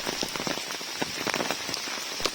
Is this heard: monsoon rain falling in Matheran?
yes